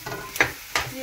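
Potatoes are stirred into spices frying in a pan for aloo paratha filling, giving a close sizzle with two quick scraping stirs.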